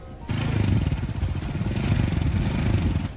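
A bike's motorcycle engine idles and runs steadily close by, with a low rumbling putter and slight clatter filling the whole stretch after a brief quieter start.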